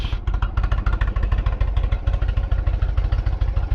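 An Indian Chieftain motorcycle engine idling close by at about 800 to 850 RPM, a loud, fast, even thumping pulse that holds steady throughout.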